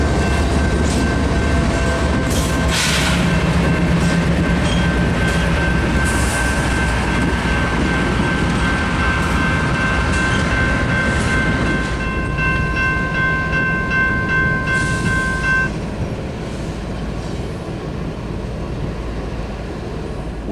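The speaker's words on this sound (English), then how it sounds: "We then found a BNSF H train terminating here in Slaton, with a Norfolk Southern ES-44 AC engine in the consist." A BNSF H train with a Norfolk Southern ES-44 AC locomotive in the consist rumbles steadily through Slaton, Texas, loud and close, with a sustained horn-like tone partway through and no voices.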